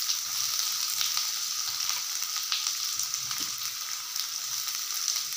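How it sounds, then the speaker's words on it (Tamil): Chopped large onions sizzle and crackle in hot oil with curry leaves while being stirred in a pan, a steady close hiss with scattered pops during preparation of raw banana puttu. "இப்போ இதில் வெங்காயம், பெரிய வெங்காயம் நறுக்கி வச்சுருக்கேன்."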